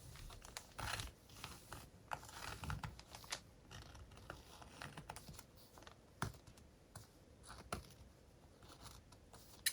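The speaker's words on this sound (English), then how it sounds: "cut with your scissors" Scissors snipping through a paper template for an autumn leaf craft, a quiet run of irregular crisp cuts and faint paper crinkles close by, with no one speaking.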